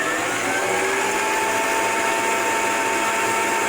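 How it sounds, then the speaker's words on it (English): Toilet paper clay being mixed in a bowl with an electric mixer gives a loud, steady whirring motor drone that runs unbroken for a few seconds, with no voices over it. "Give that a good mix."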